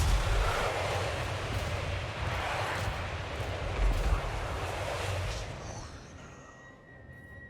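Tower and artillery fire in the fantasy battle game Total War: Warhammer 3, a loud, continuous rumbling barrage of booms and blasts that thins out near the end, leaving faint whistling tones.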